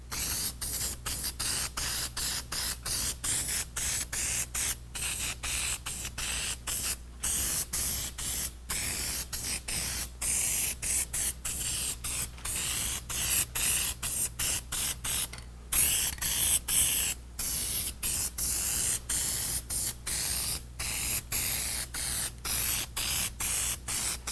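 An aerosol can sprays a second coat of Plasti Dip onto a car wheel through a dip nozzle, a loud close hiss broken by many brief pauses as the trigger is released and pressed again, with no voices.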